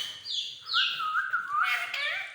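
A pet parrot gives a series of shrill, rising and falling calls and whistles close by, several overlapping squawks over about two seconds with no talking.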